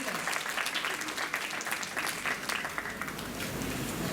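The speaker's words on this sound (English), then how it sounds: "A thundering applause to both of them." Steady applause from a crowd, dense clapping that holds at an even level throughout, with a voice faintly audible beneath it.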